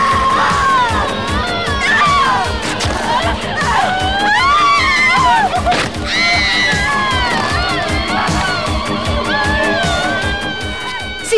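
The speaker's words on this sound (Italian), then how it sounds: "Sì, quelle urla sono vere." A crowd of people screams and shouts at once, loud, dense and continuous, with high shrieks and yells piling over a constant babble for the whole stretch.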